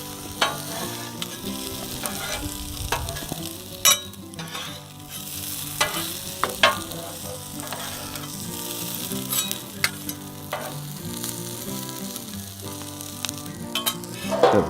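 Philly cheese steak sizzles on a Blackstone griddle with a continuous crackling fry, punctuated by repeated metal spatula scrapes and clanks, close and steady, with no talking.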